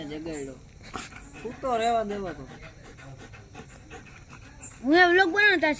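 A dog pants rapidly and lets out rising, high-pitched whimpers in two clear bursts, close to the microphone, with people talking nearby.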